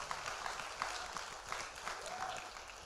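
An audience applauds steadily throughout at a preacher's church event, a dense wash of clapping with faint shouts mixed in, at moderate loudness with no one speaking over it.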